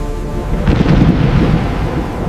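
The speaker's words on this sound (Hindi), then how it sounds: "और फिर बादल जोर से गिरजे," Loud thunder rolls through a rainstorm as a deep, booming rumble that swells and then lingers close and heavy for a couple of seconds.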